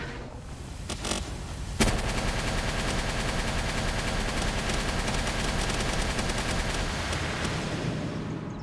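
Rockets being fired in the Palworld video game: a couple of sharp bangs and then a loud, sustained rattling barrage of rapid explosive impacts that continues steadily to the end, with no talking.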